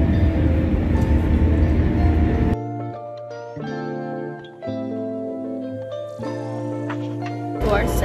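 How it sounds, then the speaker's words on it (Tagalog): A train in Japan running along the track, a loud steady rumble with whining tonal hums rising and falling as it moves, heard close from on board. "To our second train."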